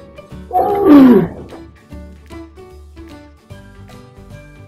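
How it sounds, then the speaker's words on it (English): A camel gives a single loud, groaning roar up close, and faint background noise follows. "Camel."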